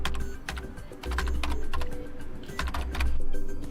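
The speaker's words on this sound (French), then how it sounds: "essayez d'appuyer sur Windows et R sur votre clavier" Rapid keystrokes on a computer keyboard, close and clear, in irregular bursts of clicks over a low background hum.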